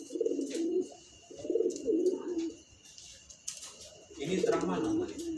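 A competition songbird in an Indonesian bird-contest setting gives low, rhythmic cooing phrases, repeated several times at close range, while people talk in the background.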